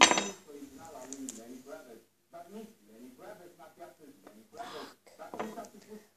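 A spoon clinks against a container while homemade slime is being made, with sharp metallic taps at the start and again near the end, mostly under ongoing conversation.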